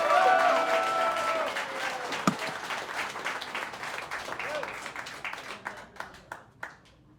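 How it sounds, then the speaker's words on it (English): Audience applause for a college jazz orchestra at a concert, starting as a full wash of clapping with a few whoops, then thinning to scattered individual claps near the end. "I'd give a sermon about that applause, but I don't have enough time, so give it up for this band"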